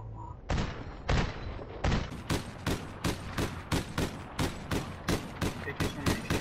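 Gunfire in the online shooter APB Reloaded, a long run of evenly spaced loud shots roughly every third of a second, sharp and close, with game noise underneath.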